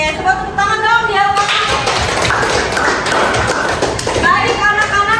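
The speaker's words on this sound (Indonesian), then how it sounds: "coba tepuk tangan dong" Children in a classroom clap their hands together, loud and close, in a dense mix with lively chatter and voices over it.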